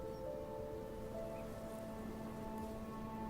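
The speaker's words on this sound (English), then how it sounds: "It's rainy here as well, dude." Steady rain falling outdoors on a cold day, a soft continuous wash of drops on surfaces, fairly quiet and even throughout with no voices.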